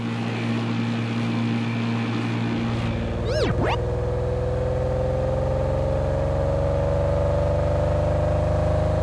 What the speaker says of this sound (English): Sports car, a shiny car that is fast and stylish.